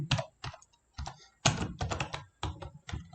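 Crisp, close keystrokes on a computer keyboard patter in irregular runs with short pauses, quiet and clicky, as text goes into a Microsoft Word document.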